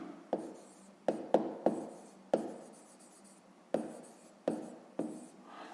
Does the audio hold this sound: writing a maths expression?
yes